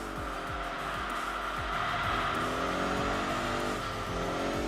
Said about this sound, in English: it even sounds really nice outside of the vehicle as well. The low burbling of the boxer engine.